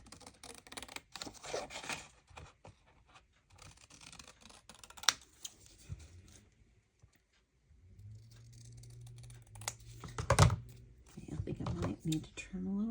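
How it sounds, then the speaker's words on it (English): Scissors snipping through paper while trimming a mason jar gift bag, a few short close crisp cuts scattered among handling noises, with a person talking in between. "I'm trying to use the lines on the paper as a guide when I cut."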